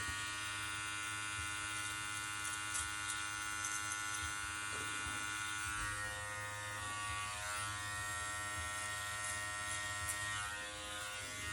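An electric beard trimmer fitted with a number 1 guard buzzes steadily and close while tapering a beard, a continuous faint motor hum with slight shifts in pitch as it moves through the hair, and no voices.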